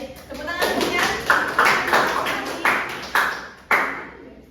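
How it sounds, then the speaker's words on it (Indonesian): Students in a classroom clap for a classmate in a few quick rhythmic bursts of hands, fairly close and bright, each burst trailing off, with some ringing resonance and a voice briefly under it. "Baik, tepuk tangan untuk Dian."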